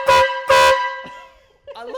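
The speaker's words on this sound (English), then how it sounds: "So it's the ultimate, the DeWalt air horn?" A DeWalt air horn sounds two loud, brassy blasts in quick succession, followed by a fading tail and a fainter third toot, then a person begins talking briefly at the end.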